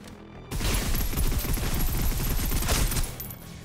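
Rapid automatic gunfire in a military video game roars in after a short quiet start, a dense, sustained burst of overlapping shots that holds for about two and a half seconds before easing off.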